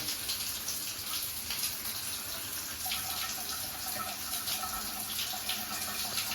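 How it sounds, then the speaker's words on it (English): A tap sputters and splutters as air and water burst out unevenly, a continuous hissy gush with irregular spitting, close and fairly quiet. "That's just air coming out."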